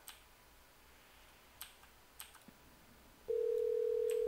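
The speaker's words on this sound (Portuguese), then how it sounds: "Tá ligando, tá ligando." A telephone in the Hello Neighbor video game starts a steady electronic ringing tone after a few faint clicks and ticks, clear and continuous to the end.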